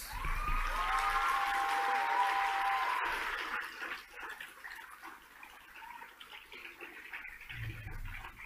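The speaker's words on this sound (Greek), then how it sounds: "Περιμένω το χειροκρότημά σας." Audience applause at an award ceremony, a steady broad wash of clapping that swells in the first few seconds and then thins out, with some faint background noise underneath.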